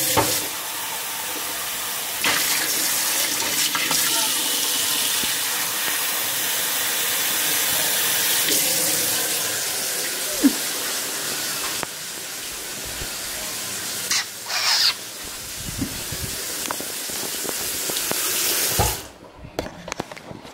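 Tap water runs steadily into a container to water a houseplant indoors, a bright continuous hiss with small splashing shifts, then cuts off abruptly near the end.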